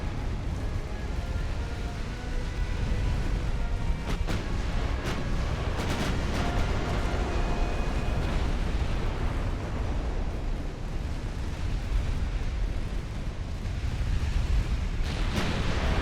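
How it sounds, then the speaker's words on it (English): Heavy naval guns of 1890-era battleships firing in the naval strategy game Ultimate Admiral: Dreadnoughts, a dense, continuous barrage of deep booms and explosions rumbling loudly throughout with no pauses. "Begin firing main guns on the other one."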